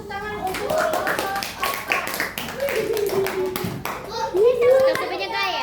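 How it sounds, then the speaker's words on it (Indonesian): Children in a classroom clap for a student group, sharp scattered claps close by mixed with excited kids' voices and chatter throughout. "Beri dulu tepuk tangan untuk kelompok 4"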